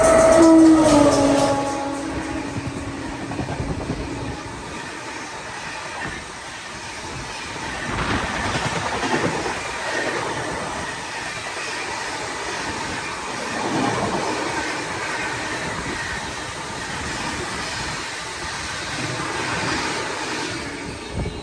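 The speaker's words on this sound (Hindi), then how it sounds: "ज़बरदस्त भाई, ये निकली हमारी Ahmedabad Howrah super fast express." The Ahmedabad–Howrah Superfast Express, a daily train, passes at speed on the Khandesh route. A horn sounds at the start, then a long, loud rumble and clatter of coaches runs steadily throughout.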